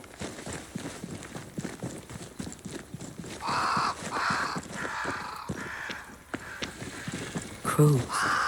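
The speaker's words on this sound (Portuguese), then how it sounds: "Crows. They flock to that great tree up there." Crows caw in scattered bursts in the Banishers: Ghosts of New Eden video game, harsh calls repeating over a rhythmic patter of footsteps, with a louder squawk near the end.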